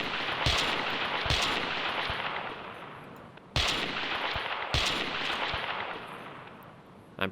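Rifle gunshots fired at a dinosaur in Carnivores Triassic, four sharp loud cracks spaced about a second or more apart, each trailing into a long wash of echoing ambient noise.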